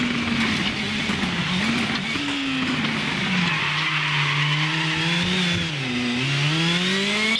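Hyundai i20 WRC rally car in the Assetto Corsa racing game, engine screaming steadily while the tyres squeal and skid through a left hairpin, pitch dipping and rising with the revs, loud and continuous.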